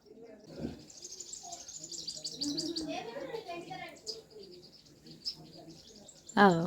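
Small birds in a village chirp and tweet in quick high bursts, fairly faint and scattered through the clip, with a voice speaking intermittently.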